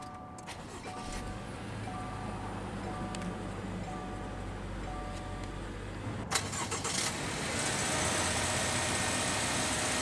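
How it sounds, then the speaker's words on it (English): A 2021 Subaru Legacy Limited XT with a turbocharged boxer engine is started by push button, with a brief starter crank followed by a steady idle hum, preceded by faint electronic chimes. "let's go ahead and start up that turbocharged boxer engine"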